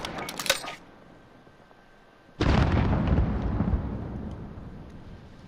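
In Modern Warfare, a grenade launcher fires with a short sharp burst of clicks and a pop, followed after a pause by a heavy booming explosion that rumbles and slowly decays.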